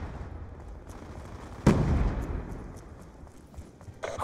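In Call of Duty Black Ops 2 multiplayer, a grenade explodes with a sharp, loud blast midway through, its rumble trailing off amid scattered distant gunfire and another burst of shots at the end.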